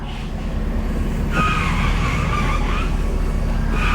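A 1989 Pontiac Firebird Formula, left sitting for 17 years, pulls away with a steady low engine rumble and a rising squealing, scraping noise as it starts to roll.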